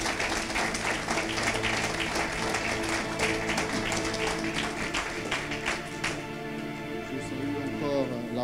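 A church congregation applauding and clapping to acclaim the Lord during a French-language worship service, a dense sustained wash of hands with voices mixed in, fading toward a tonal, music-like close.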